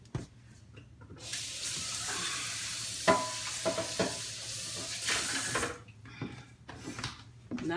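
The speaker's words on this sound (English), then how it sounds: "Then rinse off." Water from a kitchen tap runs for several seconds during rinsing while cooking jasmine shrimp fried rice, a steady rushing hiss broken by clattering handling and splashes, then shutting off into quieter knocks.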